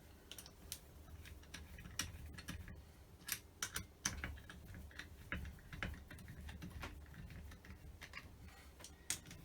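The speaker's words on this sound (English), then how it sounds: "Once the screws are in position, just this one, I use a little socket." A small socket tightens screws on a Holley 390 cfm carburettor for a Rover V8, giving close, quiet irregular metallic clicks and ticks scattered over several seconds with no talk.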